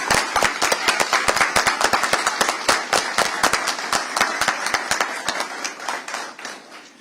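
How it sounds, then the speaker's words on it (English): Audience applause for a school leadership team standing to be recognized at a South Carolina school report card unveiling event: crisp, sharp individual claps from a modest crowd, steady for several seconds before thinning out and fading at the end. "We want to give you all a round of applause."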